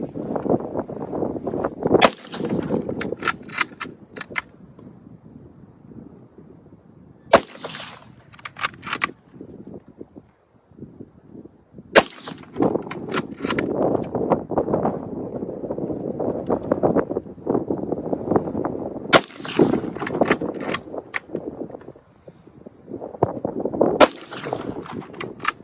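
A Mosin-Nagant M91 bolt-action rifle fires about five loud, sharp reports several seconds apart outdoors, with mechanical clicking and rustling handling between shots.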